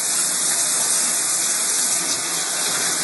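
A kitchen tap runs in a steady, loud hiss of water while hands are washed beneath it, continuous and close with no talking.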